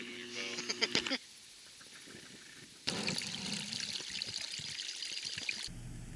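Water trickling and flowing at a backcountry creek crossing, a steady broadband wash that drops to a faint low murmur midway before returning strong, with scattered clicks and handling noises over it.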